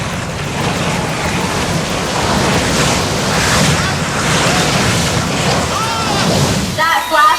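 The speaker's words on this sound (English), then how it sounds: "That flash flood was created by thousands of gallons of water that are released at the top of the hill" Staged flash flood on a studio tour, thousands of gallons of water rushing downhill in a loud, continuous roaring wash that swells and then cuts off near the end, with a voice briefly audible.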